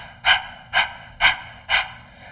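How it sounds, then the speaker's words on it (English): Sharp yoga breathing exercise for stress relief: four forceful, breathy exhales with quick inhales between them, evenly spaced about half a second apart, close to the mic and loud, with no talking. "you're actually expelling the breath and inhaling sharply"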